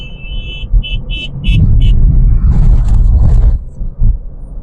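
Vehicle engines roar on a forest road, a loud, close rumble that swells and surges for several seconds after a series of short high beeps, then eases off.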